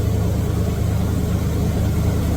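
A car engine idles steadily after warming up to operating temperature in a garage, a low even rumble that stays constant and close with no revving.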